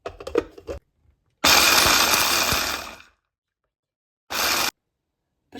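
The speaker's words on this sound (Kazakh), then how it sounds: "біз фисташкамызды мындай өткізгіштен өткіземіз." Pistachios are run through an electric grinder in bursts, a loud whirring motor roar lasting over a second, then a shorter burst later, with silent gaps and faint clatter at the start.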